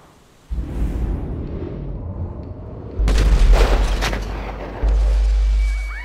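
Rifle shot fired in Grand Theft Auto V, a deep booming report that rises out of a low rumbling background, followed by a second heavy boom with a sustained tail.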